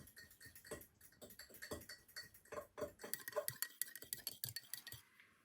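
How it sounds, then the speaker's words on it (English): Eggs being whisked in a bowl for a sugar-free gluten-free apple tart, a quiet, close run of quick metallic ticks and clinks against the bowl, irregular and speeding up toward the end. "Just make sure everything's all yellow, no egg white or anything that's left over. I need to really whisk it in."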